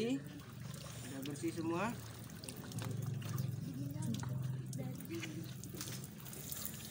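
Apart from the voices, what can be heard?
water being poured over a body during washing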